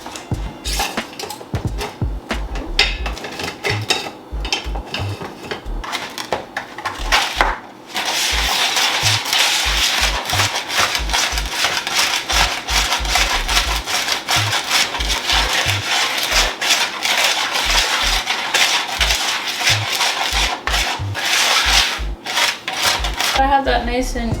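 Dry spices and salt for a pumpkin pie filling stirred together in a bowl, a continuous close scraping and rubbing with rhythmic low knocks against the bowl, no talking.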